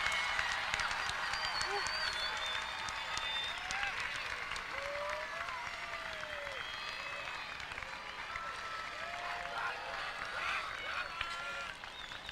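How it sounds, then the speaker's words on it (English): An audience at the Dalton High School class of 2022 graduation ceremony gives a sustained round of applause, broad crowd clapping lasting over ten seconds with scattered cheers and whoops rising above it. "Let's have one more round of applause for the Dalton High School class of"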